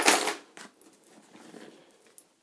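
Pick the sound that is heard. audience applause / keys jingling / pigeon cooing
keys jingling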